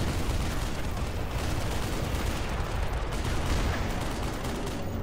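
Dense, continuous gunfire in the Black Mesa video game, a loud, steady barrage of rapid shots and blasts with no pauses.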